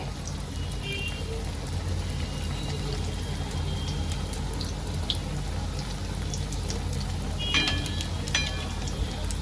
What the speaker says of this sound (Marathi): आता तेल आपला गरम झालेला आहे आता एक एक करून ह्यात मी आपले ब्रेडच्या पॉकेट जे आहेत ते सोडून घेते